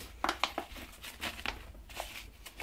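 Ordinary garden soil dug from a pond area being grabbed and handled by hand, a few soft crumbly rustles and crunches in short bursts, close and fairly quiet.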